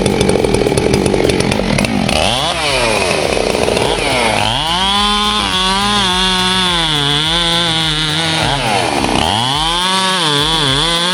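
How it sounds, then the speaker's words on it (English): A loud, close chainsaw roars continuously while felling a mature spruce, its engine pitch rising and dipping repeatedly as the chain bites into wood. "A well-maintained chainsaw with a sharp chain is key for big jobs like felling a mature spruce."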